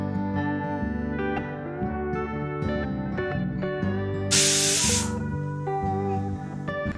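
A pressure cooker cooking basmati egg biryani lets out a short, loud hiss of escaping steam lasting under a second, rising over music that plays throughout.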